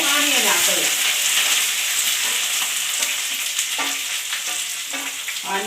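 Onions sizzling and frying in hot oil with mustard seeds and curry leaves for a Karnataka-style bendekai palya, with stirring scrapes over a steady close hiss.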